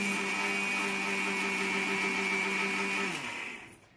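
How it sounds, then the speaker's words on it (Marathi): A mixer grinder whirs steadily as it blends soaked dosa batter ingredients, a loud constant motor hum that winds down and stops near the end. "चला आपण आता मिक्सर मध्ये सर्व बारीक वाटून घेऊया।"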